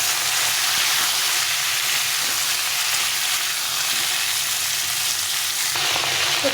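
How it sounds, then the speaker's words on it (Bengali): Sliced flat beans and radish fry in a pan, a loud, continuous, close sizzle that barely changes across several seconds, with a faint stir near the end and no voices. "এবার দিয়ে দেবো মূলো, দিয়ে এটাকে ভালো করে ভেজে নিতে হবে"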